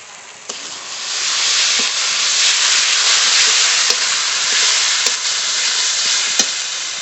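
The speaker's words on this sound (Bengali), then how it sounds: "আদা বাটা শুকনো লঙ্কা বাটা সব একসঙ্গে কষিয়ে নেব ভালো করে" Ginger paste and dried chilli paste sauté in a hot pan with a loud, steady sizzle and hiss, broken by a few light clicks of a utensil.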